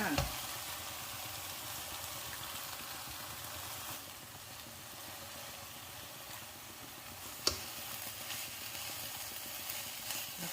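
Eggs sizzling in a pan of stir-fried acacia leaves and glass noodles, a quiet, steady frying hiss with a soft scrape or tap partway through.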